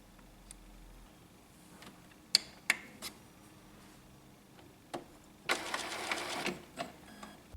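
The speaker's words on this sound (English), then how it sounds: "Turn off the printer and turn it on again." An Epson inkjet printer powers back on and initializes, with scattered clicks and ticks followed by a brief burst of whirring print-head motor movement and more mechanical clicks, close and moderately loud.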